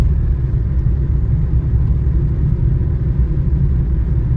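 Vehicle traffic on the Dive Ghat mountain road near Pune, a steady, heavy low engine rumble of passing cars held close and loud for several seconds with no voices.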